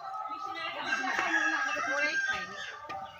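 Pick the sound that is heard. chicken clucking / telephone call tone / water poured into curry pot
chicken clucking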